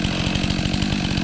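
A dropped chainsaw keeps running on its own, its engine holding a steady, close, loud drone with fast rhythmic pulsing and no voices.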